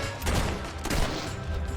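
Gunfire in Fable 3, with a couple of close, loud shots over a steady dense background of battle noise.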